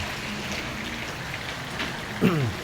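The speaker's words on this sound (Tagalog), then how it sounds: "Lakas ng ulan." Steady heavy rain hisses throughout in San Fernando Sur, Cabiao, Nueva Ecija, Philippines, with a brief louder burst of sound near the end.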